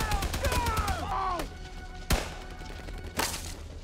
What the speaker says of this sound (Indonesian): Baku tembak pun kembali terjadi.